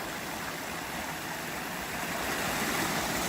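A small creek flows steadily in Pine Creek Canyon, Nevada, a soft continuous babble and hiss heard up close without any voices.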